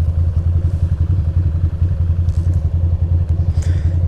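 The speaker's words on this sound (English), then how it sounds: "The bike is running." A Ducati motorcycle engine running, a close, loud, steady low throb with a fast even pulse and light mechanical clatter, no talking.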